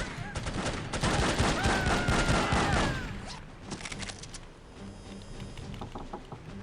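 Gunfire in the video game No One Lives Forever: dense bursts of rapid shots fill the first few seconds, loud and near, then thin to scattered, quieter pops.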